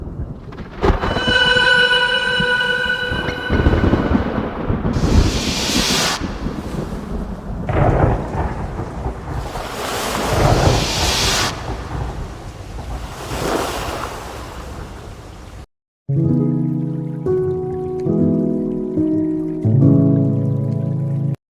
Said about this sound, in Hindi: अगर ये तूफान नहीं थमा तो हमारा जहाज डूब जाएगा।